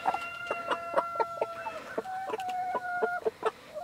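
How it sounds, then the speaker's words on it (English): Icelandic rooster on a small homestead farm giving a run of short, sharp clucks and chortles in an irregular rhythm, close and fairly loud, with no talk over it. "he is a beautiful rooster"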